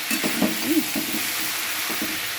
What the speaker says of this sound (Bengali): শুধু তেলেই আমার মোটামুটি ভাজাটা হয়ে গেছে